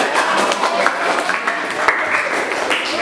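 A classroom of students claps together, a loud, ragged burst of hand claps with some chatter and voices mixed in.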